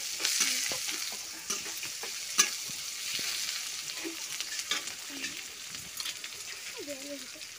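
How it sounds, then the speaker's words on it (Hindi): Hot oil sizzles and spits in a pan while shrimp curry is cooked in a home kitchen, a steady close hiss broken by sharp pops and spatter, with faint background noises throughout. "तेलटा गरम होलु हां तेलटा गरम हो बने घोर तेल माने छिटका पड़िबो"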